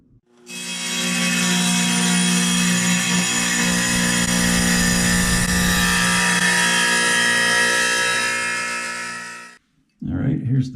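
A power saw cuts a replacement bathroom tile, a loud, continuous grinding whine lasting about nine seconds before stopping abruptly, followed by a brief clatter.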